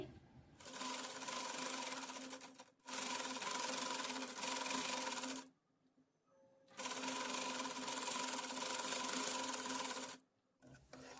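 A sewing machine runs in two long continuous bursts, stitching a lining fabric onto a frock sleeve, steady and close with a short pause between runs.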